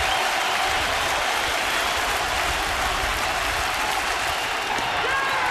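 A ballpark crowd at a Chicago Cubs versus White Sox game cheers and applauds continuously as fans rise in the ninth inning, a dense, loud, steady roar with an announcer talking over it.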